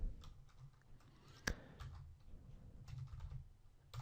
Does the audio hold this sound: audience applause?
no